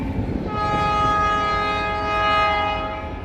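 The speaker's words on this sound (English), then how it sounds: "Ah, the joys of living next to a railroad track." Train rolling past on a railroad track right beside a house, loud and close, with a steady rumble of wagons and sustained horn-like tones ringing over it throughout, no voices.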